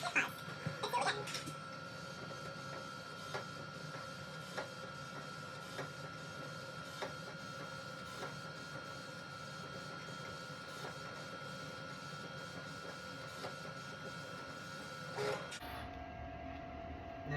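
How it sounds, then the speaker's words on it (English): Printer running steadily as it prints a onesie, a continuous mechanical whir with faint rhythmic clicks throughout, ending abruptly near the end as the motor stops. "Send it over to the printer."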